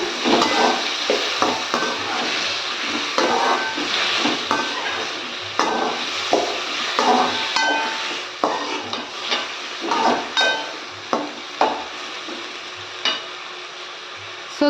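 Bitter gourd tamarind curry with tomato paste being stirred in a pan, giving a steady run of scraping, clinking spoon strokes over a soft sizzle, close and moderately loud with no talking.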